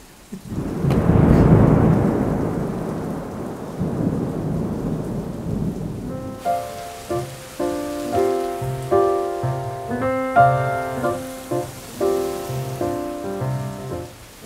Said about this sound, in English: Just love a rainstorm.